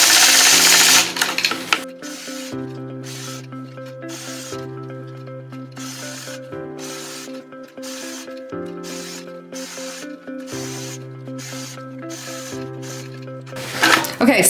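A sewing machine stitching during ruler quilting on a heart flag quilt, a steady close mechanical hum and needle rattle in several bursts with short pauses, under soft background music.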